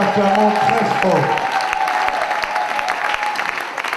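Church congregation applauding and cheering loudly after a call to acclaim, a dense wash of clapping that begins with voices shouting over it and settles into steady applause.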